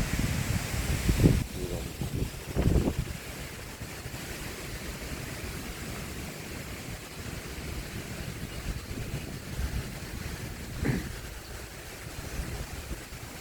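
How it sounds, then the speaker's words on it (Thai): Strong wind at Tan Diao in the cold season, a steady outdoor rush with gusty swells early on, carrying faint rustling and distant thuds beneath it. "บรรยากาศดีลมแรง"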